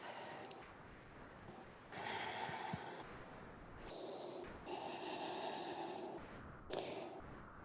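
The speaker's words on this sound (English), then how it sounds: "Can you still listen to that sound of the breath?" Slow, quiet breathing during a calm yoga flow, long soft inhales and exhales close to the mic, rising and falling in a few gentle swells with no talk.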